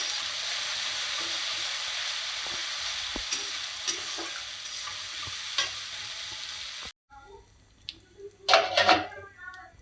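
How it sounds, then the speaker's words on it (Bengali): Spice paste sizzles and fries in a pan with onions while duck meat is being cooked Bengali style, a steady close sizzle that cuts out near the end, followed by a few stirring scrapes and clinks. "আমার মশলাটা ভাজা ভাজা হয়ে গেছে।"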